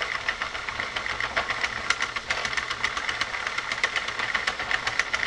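A Sentro 48 circular knitting machine cranks through rows with steady, rapid clunking and clicking, a continuous mechanical rattle at close range.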